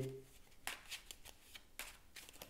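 A deck of cards for the Mage Knight board game is shuffled, with several quick riffling bursts close by, fairly soft, alone without talk.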